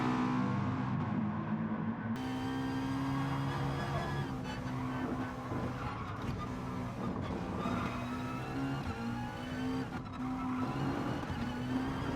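Race cars lapping the Nordschleife in the GT Sport video game; a loud sustained engine drone with shifting pitch and gear changes dominates throughout, with faint tyre noise and another car close by.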